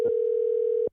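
A telephone dial tone sounds while a call is placed to a band, one steady, pure, loud tone lasting just under a second before stopping abruptly.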